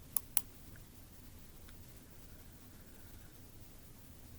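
Two sharp, close mouse clicks in quick succession, then faint room hiss, made while clicking Next in a software install wizard on a laptop.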